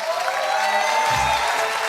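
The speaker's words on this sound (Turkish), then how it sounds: "Bu kadar büyük alkışın bir sebebi de şu." A studio audience at a Turkish television game show applauds in a dense, steady wash of clapping, loud and close, with a brief low voice sound in the middle.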